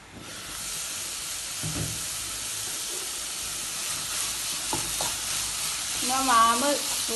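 A mango mixture seasoned with salt cooks over a low flame in a pan, giving a steady close sizzle with occasional stirring scrapes and a brief bubbling burst near the end, with no voices.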